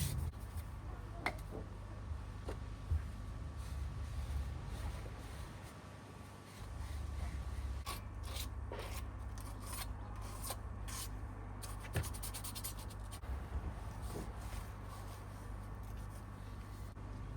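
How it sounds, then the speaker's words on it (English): Steady dry rubbing and rasping, like sandpaper worked by hand over a surface, continuous and close with a few sharper scrapes. "take my time and just sand this bit down"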